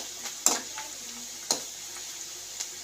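Bitter gourd frying in oil with salt and turmeric gives off a steady, close sizzle, broken by two or three sharper stirring clatters in the pan; no voices.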